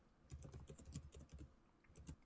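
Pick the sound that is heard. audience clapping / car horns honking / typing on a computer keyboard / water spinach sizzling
typing on a computer keyboard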